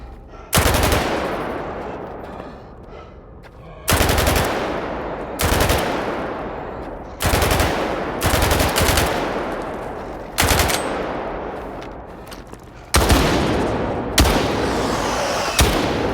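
Machine gun fire in Stalker 2, loud sharp bursts repeating every second or two, each followed by a long echoing tail over a low ambient rumble.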